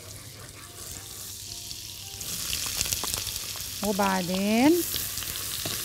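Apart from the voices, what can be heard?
onions frying in a hot pot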